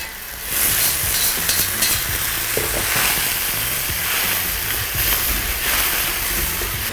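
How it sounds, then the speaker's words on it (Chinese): Blanched eggplant stirred into a sauce of sweet bean paste, soybean paste and a little water in a pan, giving a loud, close, steady sizzle with scraping spatula strokes throughout and no talking. "来搅拌均匀，开始来下入这个焯过水的茄子"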